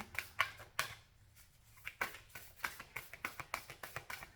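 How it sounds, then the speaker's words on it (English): Oracle cards shuffled by hand in a spiritual reading, giving a run of crisp papery riffles and taps, first a quick burst, then a short pause, then a steady rhythmic series of shuffles close up with no talk. "So I'm just going to shuffle them up a little bit."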